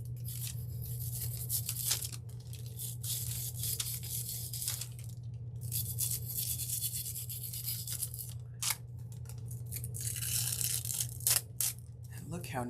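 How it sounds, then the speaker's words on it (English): A stiff toothbrush with trimmed bristles scrubs foil onto a cup in a steady rapid scratching, faint and close, over a low constant hum, with brief pauses between strokes. "I'm gonna take my little super stiff toothbrush now that I've trimmed the bristles"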